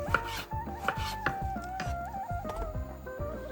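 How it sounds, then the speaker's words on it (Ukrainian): Repeated knife chops through tomatoes on a cutting board, a steady run of crisp thuds with soft squishy cuts between them, close by, with a faint hum underneath. "Різаємо помідорчик."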